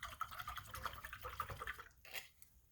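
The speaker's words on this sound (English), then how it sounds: "I'm going to rinse this brush out." Paint brush swished and rinsed in a water container after gold paint use, giving a run of quick, close splashy dribbles and drips that pause briefly, then a final splash.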